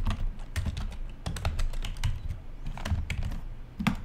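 Fast typing on a computer keyboard, with dense irregular key clicks close to the microphone over a low hum of background noise.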